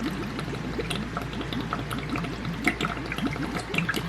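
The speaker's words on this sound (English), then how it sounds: "you got to rinse them off real good with cold water" Cold water runs steadily while hummingbird feeders are rinsed, a close, continuous pouring and trickling with small splashes and no voices.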